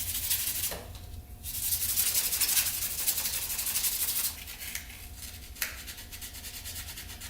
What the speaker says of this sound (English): let's sand up this slide here quick